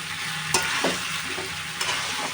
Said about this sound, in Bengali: মাছগুলো আমি ভালোভাবে কষিয়ে নেব, একদম সুন্দর করে কষিয়ে নিতে হবে